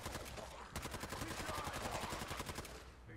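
Rapid, dense gunfire from the video game Fallout 4, a continuous stream of shots with a brief pause near the start, fairly loud and steady throughout.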